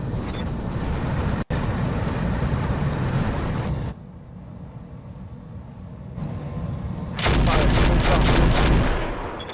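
Weapons fire and heavy mech combat noise in RogueTech, opening with a loud roaring barrage and one sharp crack, then a quieter lull, and ending in a surging burst of rattling fire.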